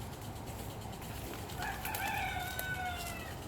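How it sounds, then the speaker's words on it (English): A young rooster that has only just started crowing gives a single thin, wavering crow partway through, heard at a moderate distance over quiet outdoor yard ambience. "That is a young rooster. He just started crowing."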